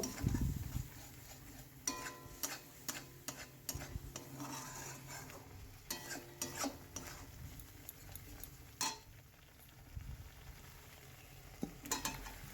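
A spoon stirs spice paste with a little water in a pan while cooking fish and cauliflower curry, giving quiet, irregular scraping and clinking against the metal over a soft, steady sizzle, with no voices.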